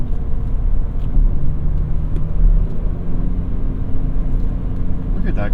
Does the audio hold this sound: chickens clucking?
no